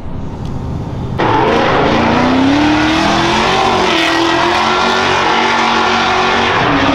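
A Nissan 350Z drift car engine revs hard at a drift competition, jumping to a loud sustained roar that climbs steadily in pitch as the car drives past, close and dominant.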